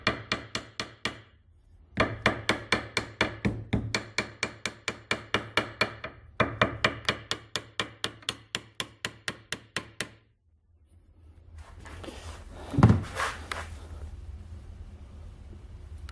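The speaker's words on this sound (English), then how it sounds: "Let's give her a little tap, tap, tap." Hammer tapping on a stuck suspension part clamped in a bench vise, a long run of sharp, evenly spaced metallic strikes in quick bursts with brief pauses, close and loud, ending in a scraping, shifting noise.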